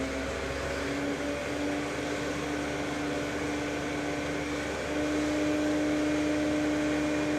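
An alternator running at its rated 1500 rpm on a test bench, a steady loud hum with a constant tonal whine that holds unchanged throughout, slightly louder toward the end, with no voices.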